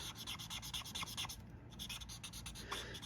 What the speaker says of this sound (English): The color lifter, to sort of blend that out a little or soften the edges.